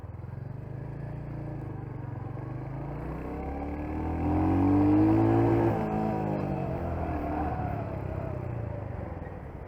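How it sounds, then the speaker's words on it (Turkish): A Royal Enfield Hunter 350 motorcycle idles steadily, then its engine revs up in one smooth swell and settles back to idle, heard close and alone with no talking. "Şimdi Hunter 350'yi aldık. Bunun gaz hissiyatına bakacağız."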